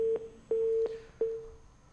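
A telephone busy tone follows a hung-up call: four short, clear, evenly spaced beeps at a steady pitch, faint and alone.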